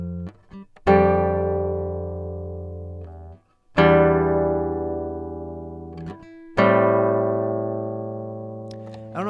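Three sustained electric-piano chords from a song's progression, each struck firmly and left to ring and decay, with brief quiet gaps between them and no talking.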